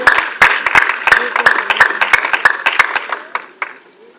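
A church congregation at a Sunday service claps in a quick, rhythmic beat, the sharp hand claps ringing close and loud, with voices over them and the claps fading toward the end.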